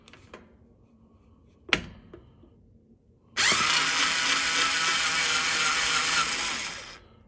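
Power driver with a hex head bit spins out a bolt in a continuous loud whirring run of about four seconds, preceded by a few faint clicks and a sharp tap.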